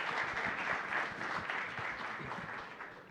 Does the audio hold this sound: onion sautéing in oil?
no